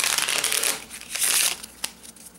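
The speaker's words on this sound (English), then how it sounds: "let's go ahead and shuffle that orange back in here" A deck of Onirim cards is shuffled close by, with a couple of papery riffling bursts and a final sharp snap.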